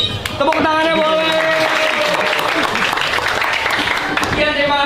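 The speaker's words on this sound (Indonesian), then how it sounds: "Tepuk tangannya boleh." Audience clapping and cheering loudly and continuously for several seconds at a live show, with voices and whoops mixed into the applause.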